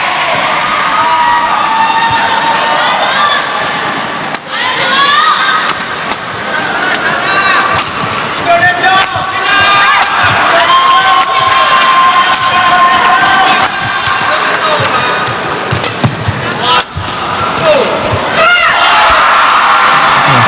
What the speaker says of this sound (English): It's applause from her coaches on the sidelines.